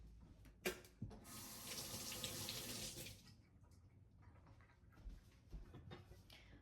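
Tap water runs steadily into a kitchen sink for about two seconds as a jalapeno is rinsed, a close, hissing splash that then stops, leaving soft handling clatter.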